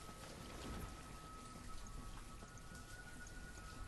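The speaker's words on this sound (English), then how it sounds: "Why is it always raining?" Steady rain falls in the video game Banished, a soft continuous hiss of drops at low level with no talking.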